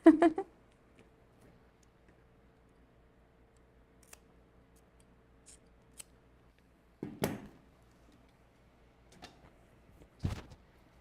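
Quiet scene broken by a few brief crisp snips of scissors trimming thread while sewing a wig, spaced apart, with faint small clicks between them.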